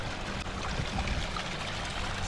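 Water trickles and runs down a rock face into a ravine, a steady close-up wash of flowing water with no talk over it.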